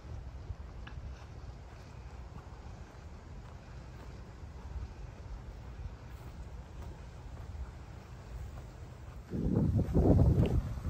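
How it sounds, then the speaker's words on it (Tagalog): Low rumbling wind on the Paskapoo Trail in Calgary buffeting the microphone, gusting steadily and swelling into a louder blast near the end. "Hangin naman pala."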